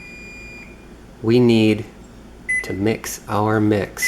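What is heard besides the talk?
oven beeping after preheating to 325 degrees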